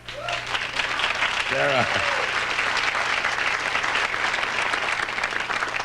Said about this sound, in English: they're applauding for some very pretty music you didn't get to hear out there